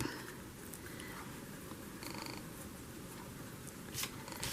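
A cat purrs steadily in a person's lap, a soft continuous low rumble held close to the microphone, with faint rustles and a few brief clicks above it and no talking.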